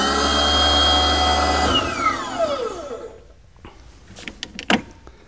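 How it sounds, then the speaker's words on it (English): A Genie aerial work platform lowers on its manual lowering valve at the machine's base: a loud, steady hydraulic and motor drone winds down in falling pitch, then trails off into scattered clicks and clunks. "Now I have a manual lowering valve right at the base of the machine that's operating properly"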